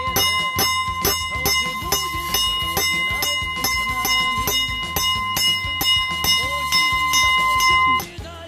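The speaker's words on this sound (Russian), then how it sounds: "Рыбы, которые приходят по звонку в колокол." A bell in Sri Lanka is struck over and over to call fish, giving steady, close ringing strikes with bright, lingering overtones at a quick, even pace that stops abruptly near the end.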